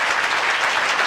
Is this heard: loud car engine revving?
no